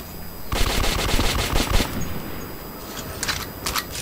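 Machine gun fire in the Metro 2033 video game: loud, rapid bursts of automatic shots with a dense rattling texture, followed by a few sharper single cracks near the end, no talking.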